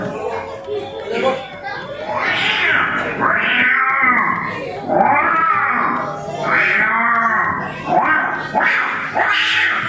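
A voice imitates two cats fighting, trading rising and falling yowls and caterwauls in loud, close bursts with brief pauses between the drawn-out cries.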